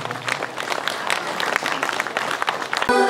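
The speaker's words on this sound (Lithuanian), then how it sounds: "Ačiū Jums, mėlėjai, už Jūsų plojimus" Audience applause at an outdoor concert of musicians in Seirijai, a dense, steady patter of many hands clapping throughout, with a voice briefly audible near the end.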